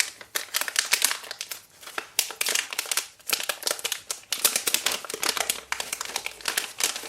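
Close, crisp crinkling and tearing of tape and plastic packaging around a Duet Wifi 3D printer main board, in rapid irregular bursts that run continuously with short pauses, no talk.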